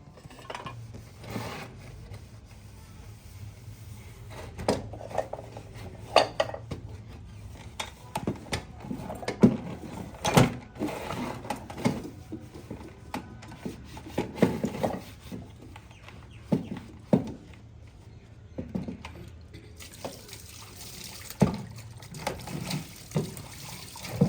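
Dishes, pots, utensils and containers being washed in a village kitchen, with water trickling and splashing and scattered clinks and knocks of vessels. The sounds are close but faint and come in irregular bursts, with no talking.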